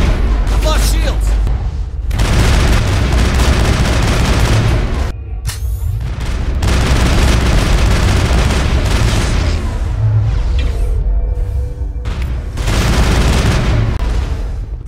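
Sustained gunfire during a Mass Effect video game firefight, loud bursts and booms filling the scene almost continuously with only brief gaps.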